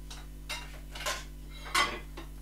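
Metal clinks as a lid goes onto a cooking pot on the stove: a few light, separate clanks spaced across a couple of seconds, close and faint over a steady low hum, with no voices.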